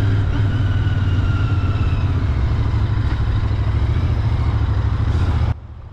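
A Royal Enfield Interceptor 650 twin-cylinder motorcycle engine thrums steadily and close while riding, a loud continuous low rumble with wind noise, cutting off abruptly near the end.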